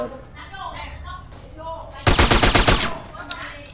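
A loud burst of rapid automatic gunfire in a Multi Theft Auto game rattles for about a second, after quieter game sounds and murmuring.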